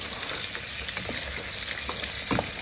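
Ghanaian shito pepper sauce sizzles steadily in a pan while being stirred, with soft scraping taps from the spoon under the continuous frying hiss.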